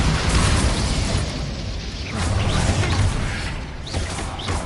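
A Bombarda blasting spell explodes in the Hogwarts video game: a loud, dense roar of rumbling blast noise with crackling and whistling debris that swells, dips briefly and builds again, with no talk.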